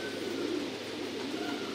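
Pigeons coo steadily in a pigeon loft, a soft continuous murmur of overlapping coos with a constant background hum.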